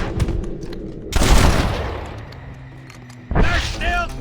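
Gunfire in a Red Dead Redemption shootout: two loud bursts of shots, one near 1.1 seconds and another near 3.3 seconds, each fading into rumbling echo. A faint shout sits between them and a voice rises at the end.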